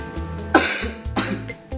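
A short cough, a sharp burst followed by a second, softer hack, close up and alone with no talk.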